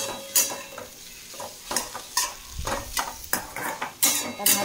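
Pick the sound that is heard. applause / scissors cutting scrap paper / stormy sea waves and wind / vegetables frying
vegetables frying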